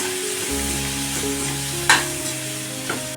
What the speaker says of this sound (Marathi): आता हा मसाला सगळ्यांना मी परतून घेते चांगला